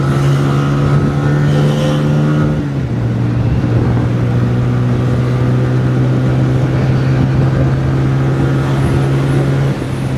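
A Honda 125 motorcycle accelerates along a bypass road, its engine drone loud and continuous, dipping in pitch at a gear change and then holding steady under traffic noise.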